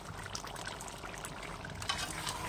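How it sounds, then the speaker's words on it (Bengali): Water poured into a pot of chicken and potato curry, a soft steady stream with light splashing that runs close and even for a couple of seconds. "এবার আমি দিয়ে দিচ্ছি একটু জল"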